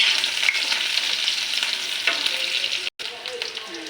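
Garlic, onion and ginger sauté in a hot pan, giving a steady close sizzle with light stirring scrapes throughout and a brief cut near the end.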